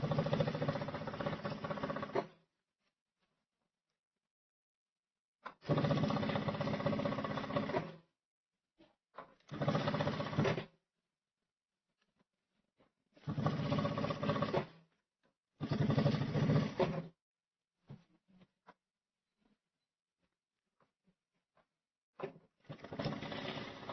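A sewing machine topstitching close to the edge of a pinafore peplum top runs in several short bursts of steady whirring, separated by quiet pauses and a few faint clicks, with no voices.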